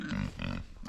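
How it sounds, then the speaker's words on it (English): Four hungry pigs on a small homestead grunt and squeal loudly close by, overlapping in a noisy burst. "All right, so these are our 4 pigs."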